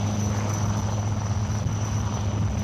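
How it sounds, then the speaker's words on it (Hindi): Military helicopters pass over a parade ground during an NCC rally in New Delhi, a steady, loud rotor and engine drone with strong low hum running unbroken throughout. "The helicopters are carrying highly trained quick action team tasked to slither behind enemy lines"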